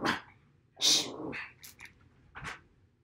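A small Chihuahua barking and yapping indoors in short, loud, uneven bursts with whiny yelps between them, close to the microphone.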